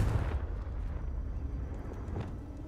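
A Confringo fire spell explodes in Hogwarts Legacy, a single loud, close burst with a rumbling tail that fades over a few seconds.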